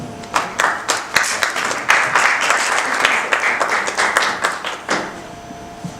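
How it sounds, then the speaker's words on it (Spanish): An audience at a lecture on human colostrum research applauds a speaker, a loud, close round of clapping with distinct individual claps that swells, holds steady, then thins out toward the end. "Demos un aplauso, por favor, a nuestro ponente."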